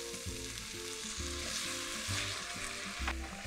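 Food sautés in a pot with a splash of water, cooking the base for a beef shank and vegetable soup: a loud, continuous close sizzle with faint music underneath.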